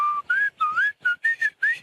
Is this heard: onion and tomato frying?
no